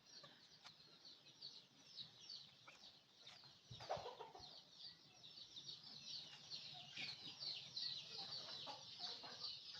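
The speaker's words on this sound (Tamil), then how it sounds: "இதெல்லாம் நாட்டுக்கோழி." Free-range native country chickens cluck softly at a distance on an organic farm, over a bright, constant background of insects and outdoor ambience, with a brief rustle midway.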